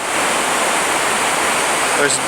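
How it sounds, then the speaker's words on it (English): Waterfall beside a town at Geirangerfjord, Norway: a dense, steady roar of rushing water fills the scene, loud and continuous, with a brief faint tonal sound near the end. "There is no mention of the awesome waterfall that runs right next to town."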